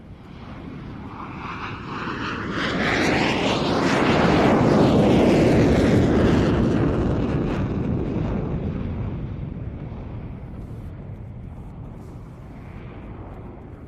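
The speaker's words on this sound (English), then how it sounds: "This versatile aircraft distinguished itself both as a fighter and as an attack aircraft in the Gulf conflict." A Hornet fighter jet flies past at an air show, a loud roaring jet whoosh that swells to a peak mid-pass and then fades slowly as it moves away.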